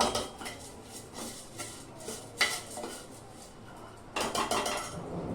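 Masoor lentils are sautéed in a pan with a metal spatula. Intermittent clinks and scrapes of metal against the pan come in short bursts, with a livelier cluster toward the end.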